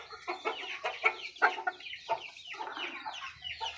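An Aseel hen clucks in a quick series of short, close, fairly soft calls with brief pauses between bursts, with no other sound around them.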